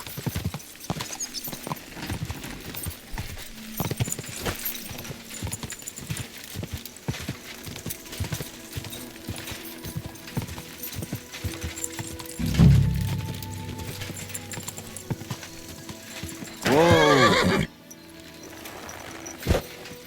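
Hooves clip-clop in a steady rhythm as a horse gallops in the game Kingdom Come: Deliverance 2, with a whinny and a sharp crack partway through, and a brief loud burst near the end.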